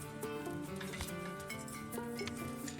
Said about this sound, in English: Why am I hearing tableware clinking?